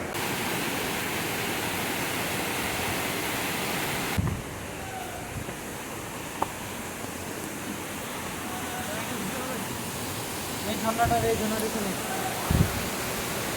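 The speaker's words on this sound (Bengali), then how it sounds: "এই যে দূর থেকে দেখা যাচ্ছে সেই ঝর্ণাটা" A continuous rushing roar of the Fashkhawa Jayanti waterfall in Buxa Tiger Reserve, Alipurduar, even and steady, with a few faint knocks and handling noises nearby.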